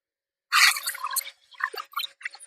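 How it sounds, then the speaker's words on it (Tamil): An electric high-pressure car washer sprays water in short, forceful hissing bursts after a brief silent start, cutting in and out several times up close. "இந்த பக்கம் அப்படி தண்ணி போடுறேங்க."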